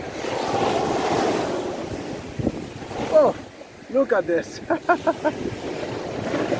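Ocean surf washes onto a beach in a steady broadband roar with wind buffeting the microphone, while someone speaks briefly over it.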